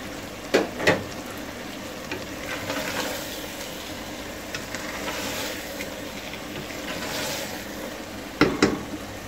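Aloo gobi sabzi with fresh coriander and green chillies being slowly stirred in a pan, a soft continuous sizzle with a few sharp scraping clinks of the spoon near the start and end.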